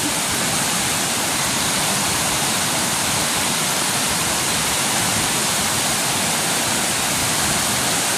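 Rushing floodwater sweeping along banana trunks, coconuts, bamboo and branches, a loud, unbroken roar of churning water close by, steady throughout with no talk over it.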